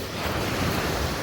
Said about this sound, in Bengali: সমুদ্রের এই আওয়াজটা ভালোই লাগে